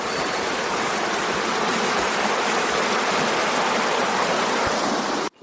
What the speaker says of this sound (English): Let's record a bit of the river.